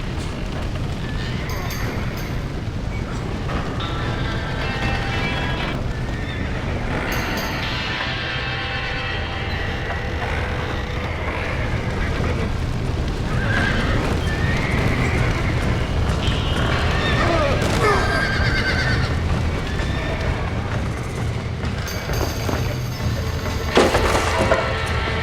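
Horses in the Red Dead Redemption video game whinny and neigh repeatedly over a dense rumble of clip-clopping hooves and background commotion, loud and continuous throughout, with some shouted voices mixed in.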